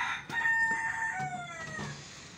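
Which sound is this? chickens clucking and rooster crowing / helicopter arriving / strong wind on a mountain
chickens clucking and rooster crowing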